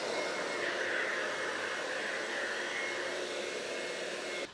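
A saw cuts a wooden door rail on an MFT table with a steady, loud whining roar of motor and blade that holds evenly throughout and stops abruptly at the very end.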